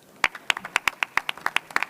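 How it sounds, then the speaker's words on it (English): A small audience at a health tech competition in Eindhoven claps for a speaker: sharp, distinct hand claps in quick, uneven succession from only a handful of people, fairly close and clear. "Big round of applause, please."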